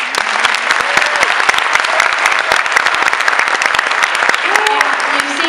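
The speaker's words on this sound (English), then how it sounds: "clap for that" An audience applauds a senior student at a high school gathering, with loud, dense clapping that holds steady throughout and faint voices mixed in.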